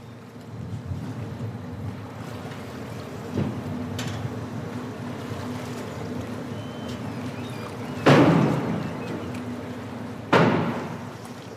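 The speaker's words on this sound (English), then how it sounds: "That is the sound of a ferry pulling into Helsinki harbour." A ferry rumbles low and steady as it pulls into Helsinki harbour, Finland, with wind buffeting the microphone and a couple of louder whooshing surges.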